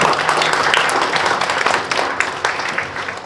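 Warm audience applause at a Korean conference session on the semiconductor industry, loud dense clapping filling the hall steadily as the session chair is introduced.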